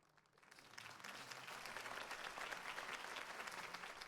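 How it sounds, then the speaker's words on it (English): A crowd breaks into sustained applause after a mayoral campaign speech, rising quickly from quiet and holding steady as a dense wash of clapping hands. "If only Mr. Wayne, my campaign's largest backer, could have heard that applause"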